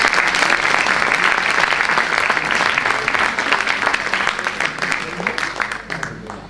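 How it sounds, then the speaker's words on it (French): Dense, sustained applause from the crowd at a general assembly meeting, loud and steady for several seconds before gradually tapering off toward the end. "Je voudrais qu'on l'applaudisse."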